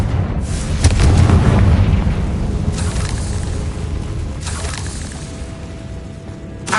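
Confringo blasting curse detonating in Hogwarts Legacy on PS5, a heavy booming explosion near the start followed by further blasts, loud and close with a rumbling tail.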